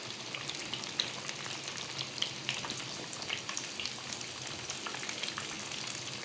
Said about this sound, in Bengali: শুধু এখন একটু হালকা ব্রাউন কালার করে আমি ভেজে উঠিয়ে নিব।